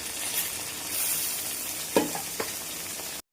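Rohu fish paturi parcels fry in a pan with a steady soft sizzle, broken near the end by two sharp clatters as the parcels are gently flipped over.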